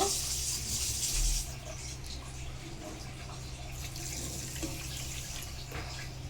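Water poured into a cooking pot of sugar for mango murabba, a steady splashing pour alone at low level that eases slightly after the first second and runs on softly.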